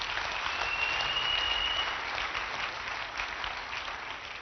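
A church congregation claps as an offering to Jesus, producing steady, dense applause that fills the space and fades slightly toward the end, with no talking over it.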